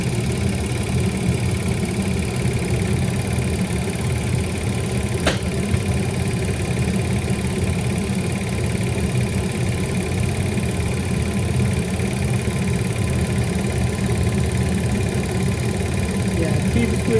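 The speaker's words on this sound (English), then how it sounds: "keep squeezing the line and keep running the vehicle for a few minutes" An Audi car's engine idles steadily during a coolant change, a continuous close low hum with one sharp click partway through.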